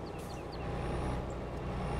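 Heavy vehicle engine rumble with hissing brakes in Farming Simulator 22, likely a combine harvester slowing from high speed, a steady loud drone with faint high squeals and short hisses throughout.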